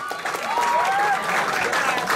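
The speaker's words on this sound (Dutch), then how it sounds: "Mag ik een applaus voor deze twee strijders?" Crowd applause for two fighters at the end of a kickboxing bout, clapping under an announcer's amplified voice, with a bright whistle-like tone sweeping through the middle.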